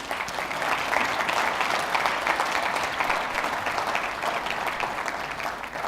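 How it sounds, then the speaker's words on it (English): Sustained applause from a gala dinner audience, a dense, steady wash of many hands clapping at even loudness throughout, with no voices standing out. "Yes, a round of applause for Ali."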